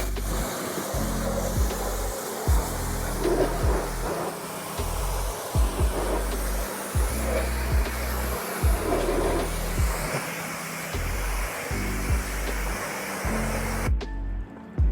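Pressure washer with a 25-degree nozzle pre-rinsing car wheels and wheel wells, a loud continuous hissing spray with repeated thumps and pulses as the jet moves, cutting off abruptly near the end.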